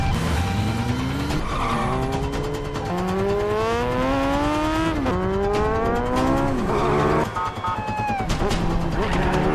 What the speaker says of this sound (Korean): 오토바이를 타고 서둘러 앰뷸런스를 뒤쫓아갑니다